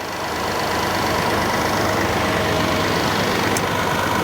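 A 2017 Kia Sedona's freshly replaced engine idles steadily and evenly, a continuous close hum with no talk over it.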